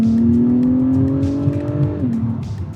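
Engine of a 2024 Acura TLX Type S revs loudly after a downshift, a strong tonal drone that climbs slightly and then drops sharply as the revs fall, close and dominant.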